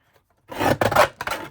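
Paper trimmer slicing through card scraps, with a few short rasping cuts in quick succession after a moment of quiet, close and fairly loud.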